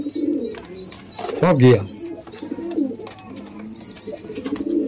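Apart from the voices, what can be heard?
pigeons cooing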